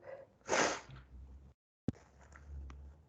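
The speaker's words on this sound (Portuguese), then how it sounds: "Ai, meu Deus, vou espirrar." A single sharp sneeze bursts out, preceded by a soft intake of breath, followed by quiet shuffling and a brief click.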